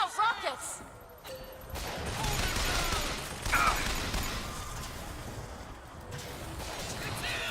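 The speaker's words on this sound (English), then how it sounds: "Watch out, rockets!" Rockets fire in combat in the video game Bioshock Infinite, with sharp blasts and rushing noise over a busy, cluttered game soundscape. The bursts are fairly faint and mixed with other battle sounds.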